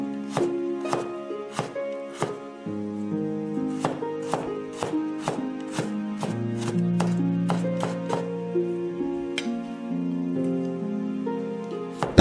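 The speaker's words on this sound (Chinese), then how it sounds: "生姜切成细丝" A kitchen knife shredding ginger on a cutting board, a steady run of crisp, evenly spaced chops over soft background music, with no talking.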